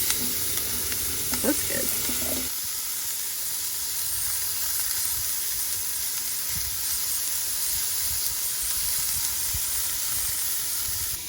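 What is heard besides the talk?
onion sautéing in butter in cast iron pot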